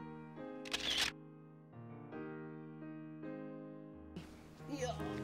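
A camera shutter fires while a group photo is taken, two brief bursts a few seconds apart over sustained tonal background sound and voices.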